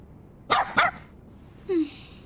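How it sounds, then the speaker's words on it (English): Animated dog in an English-dubbed anime gives two quick close barks, then after a pause a short rising yip or whine, with no talk over it. "I don't think I'm going to understand your barking anytime in the near future"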